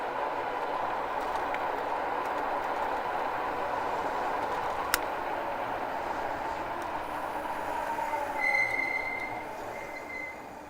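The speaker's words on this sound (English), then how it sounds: "A little brake squeal." A thin, high brake squeal rises briefly near the end of a long, steady rumble of city street riding on an ebike through Toronto's Kensington Market area.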